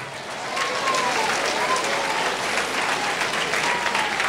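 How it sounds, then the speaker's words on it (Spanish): Church congregation applause, rising quickly from quiet into a loud, sustained roar of many hands clapping that carries on evenly, with faint voices beneath. "alto fuerte aplausos iglesia de Cristo"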